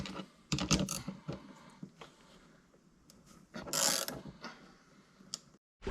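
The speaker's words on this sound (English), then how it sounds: "let's wrench them down" A wrench tightens fittings on a Tekna ProLite spray gun during assembly, giving close, irregular metallic clicks, ratcheting taps and small clanks with brief pauses and no talk.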